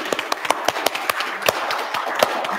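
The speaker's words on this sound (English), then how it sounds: "let's us just give them a little round of applause" A church congregation gives a small, scattered round of applause, with sparse individual claps and taps at irregular intervals, fairly close.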